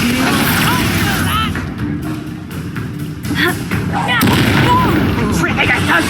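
Expulso explosion spell in Hogwarts Legacy, a heavy booming blast and thuds amid a chaotic magical fight, loud and close, with voices talking over it.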